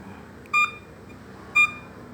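Two short electronic false-signal beeps from a metal detector set too sensitive, about a second apart over a low background hum, clear and evenly spaced.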